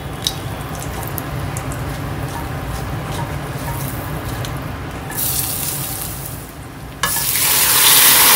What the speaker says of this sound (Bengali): খাবার আগে আগে এই চিকেনটা ফ্রাই করে দেবো